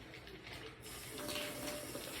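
Running tap water pouring steadily into a sink while boiled eggs are peeled under the stream, a continuous close splashing hiss that grows slightly fuller partway through.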